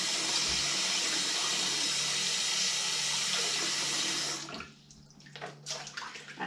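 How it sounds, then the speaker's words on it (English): Elderberries are rinsed under a running kitchen tap: a close, steady rush of water for about four seconds that cuts off into quieter handling and dripping. "so I'll wash my berries. A little rinse, make sure there's no bugs"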